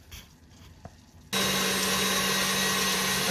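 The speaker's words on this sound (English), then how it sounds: "So we have the eggs and sugar in here beating." An electric mixer beating eggs and sugar for a lemon vanilla coconut sponge cake starts abruptly after a quiet moment, then runs as a loud, steady, even whir to the end.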